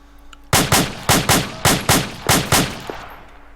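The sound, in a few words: gunshots in the video game Arma 2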